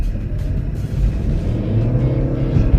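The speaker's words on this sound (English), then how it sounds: "You can hear the engine kick on because when it's needed, it'll be able to add a little bit of boost." A 2014 Chevy Volt accelerating hard as its petrol engine kicks on to assist the electric drive: a loud, steady in-cabin engine rumble with road roar that builds slightly, no talking.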